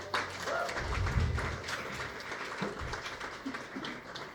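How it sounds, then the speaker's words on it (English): A launch party audience gives a short round of applause for supporters, soft scattered clapping that lasts the whole clip with a few low thumps and faint crowd murmur underneath. "Can we give them a little applause as well?"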